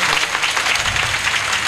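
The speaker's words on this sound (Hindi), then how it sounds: "एक बार इन लोगों के लिए भी जोरदार ताली आप लोग बजाए" A crowd at a Bhagwat Katha religious gathering in a village applauds steadily, a dense, even wash of many hands clapping with no voices heard.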